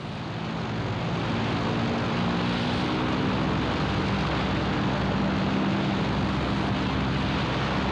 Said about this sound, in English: Fletcher had launched his aircraft and was about to attack at any moment